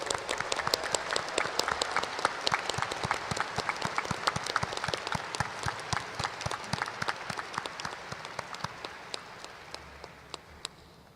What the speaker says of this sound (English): Another round of applause for our doctoral students.